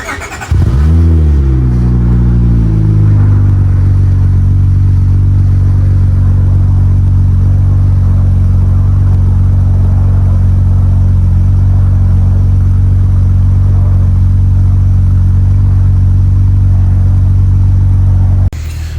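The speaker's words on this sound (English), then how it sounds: "So I guess we'll start with a cold start." Cold start of an Acura TL with a mid muffler delete and Vibrant resonators: the starter cranks briefly, then the engine flares up loud before settling into a deep, steady, close idle rumble that continues to the end.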